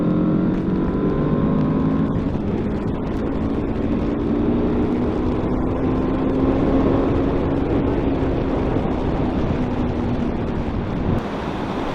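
A 2024 Aprilia RSV4 motorcycle ridden at speed, its steady engine drone gliding through gear-held tones under loud, constant wind rush at the helmet, with one brief shift near the end and no talk.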